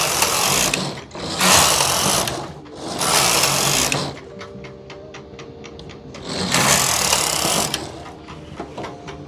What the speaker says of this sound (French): je vais enchaîner les rangs, voir comment la machine se comporte